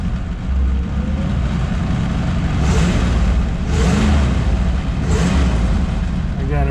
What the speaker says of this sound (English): Just rev it up so you can hear it a little bit